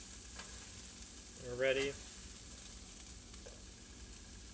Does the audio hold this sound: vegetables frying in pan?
yes